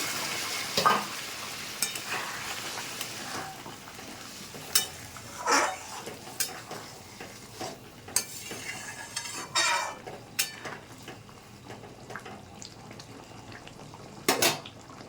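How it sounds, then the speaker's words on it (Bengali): Potatoes sauté in a pan for a katla fish curry, with faint frying and scattered clinks and scrapes of a spoon stirring against the pan, quiet and close with irregular bursts. "আলুটা দিয়ে কিছুক্ষণ কষিয়ে নিয়েছি"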